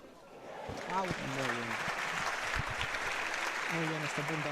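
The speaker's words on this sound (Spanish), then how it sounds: "Aplaude la pista de la Ribera" Spectators applaud steadily at an outdoor tennis court, a moderate, continuous patter of clapping while a commentator talks over it.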